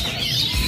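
An oriental magpie-robin (kacer) songbird calls at a bird-keepers' gathering in Tegal, a thin high chirping sustained through a brief noisy stretch with no talk.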